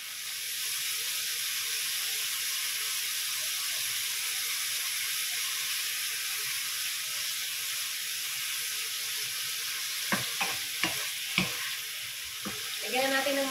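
Chicken strips frying in a pan with bell pepper, a steady quiet sizzle and hiss throughout, with a few utensil taps and scrapes near the end.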